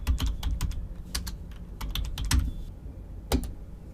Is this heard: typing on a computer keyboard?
yes